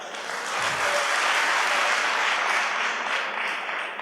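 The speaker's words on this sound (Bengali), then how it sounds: "সব ছেলেরা মেয়েদের যারা হাত তুলছে ওদের উদ্দেশ্যে হাততালি" Sustained audience applause at a motivational talk, a dense, steady wash of many hands clapping together at full volume with no voices over it.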